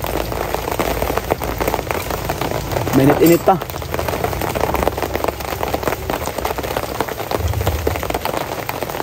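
Steady rain pours down outdoors as a broad, even hiss, with voices talking over it and a brief louder burst partway through.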